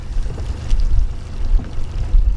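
A fishing boat's outboard motor is put in gear and moves off while trolling for smallmouth bass, a low, steady engine rumble with water and wind noise close by.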